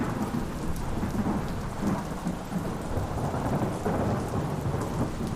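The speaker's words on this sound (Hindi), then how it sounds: "देखते ही देखते आसमान फाड़ देने वाली मूसलाधार बारिश शुरू हो गई।" Torrential downpour with rolling thunder in a storm effect, a dense steady roar of heavy rain with low rumbling swells throughout, loud and continuous with no voices.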